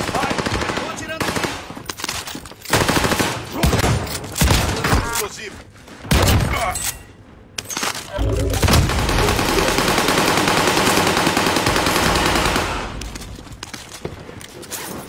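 Call of Duty Warzone gameplay with loud, dense automatic gunfire in long bursts, a few brief pauses and shifts between weapons, continuous and close throughout.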